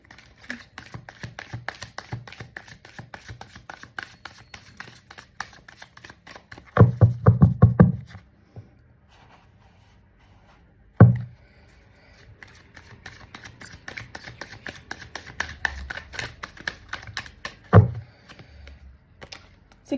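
Tarot cards being shuffled, a long run of rapid close clicking riffles broken by a few louder thumps and bursts as the deck is handled.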